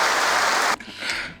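Studio audience claps in a dense, steady burst of applause that cuts off sharply midway, followed by a lighter, scattered patter of clapping.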